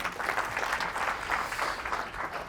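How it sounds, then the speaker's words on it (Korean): Audience clapping at a televised lecture on Korean security, a soft, even patter of applause sustained throughout without a voice over it. "박수 한번 보내보세요"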